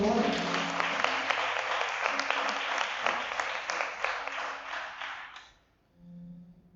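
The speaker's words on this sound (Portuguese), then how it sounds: "Pode aplaudir ao Senhor." A church congregation at a Sunday service claps in a dense, steady burst for several seconds, then it fades out and a voice begins speaking.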